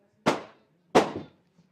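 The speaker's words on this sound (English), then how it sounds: "there are some fireworks, not in this ground, but what a timing" Two sharp firework bangs go off near a cricket ground, spaced about a second apart, each a loud crack with a short decaying tail against near silence.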